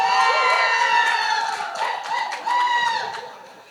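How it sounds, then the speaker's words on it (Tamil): An audience at a film trailer launch event cheers loudly with shrill whistles and shouts, the noise steady and close before it briefly dips and swells again. "இப்போது நானும் சிவா மாதிரி கைத்தட்டல் தான் ஆரம்பிக்கணும்னு ஆசைப்படுறேன்"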